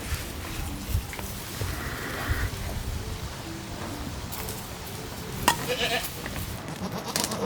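Goats on a Japanese island bleat now and then against a steady outdoor background hiss like light rain, with a few louder calls standing out from the wash.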